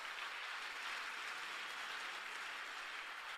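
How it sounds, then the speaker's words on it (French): Church congregation at a gathering in Orlando applauding, a soft, distant, even wash of many hands clapping that continues throughout, ending in a sharp close bump. "Applaudissez pour Jésus."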